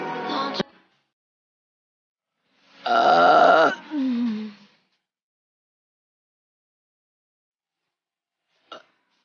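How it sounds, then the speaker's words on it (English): A girl burps, one short belch followed by a longer, louder drawn-out burp, close and clear with silence between, and a faint brief sound near the end. "Good burp."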